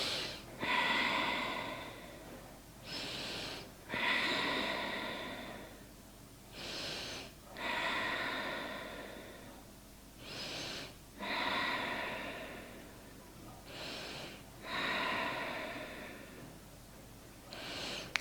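Slow, deep breaths during a yoga pose, each long airy inhale and exhale rising and falling in a steady rhythm of about seven cycles, close and soft with no talk.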